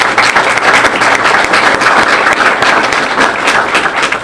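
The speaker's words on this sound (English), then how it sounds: "let's all give them a round of applause" Graduates of an internship program receive loud, sustained applause from a close audience, dense clapping holding steady throughout with occasional thumps.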